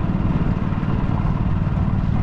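Boat motor running on the Amazon river, a steady low mid-pitched engine drone with slight clatter, close and continuous throughout.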